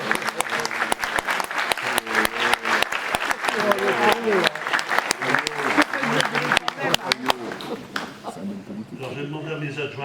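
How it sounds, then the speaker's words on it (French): Audience in a French town hall at a 2024 New Year's greetings event applauds steadily and loudly for about ten seconds, dense clapping that thins out toward the end, with talking mixed underneath. "Et on peut les applaudir."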